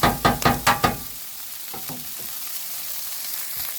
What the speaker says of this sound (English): Keep mixing that up, stirring that around